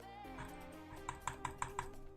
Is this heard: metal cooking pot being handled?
no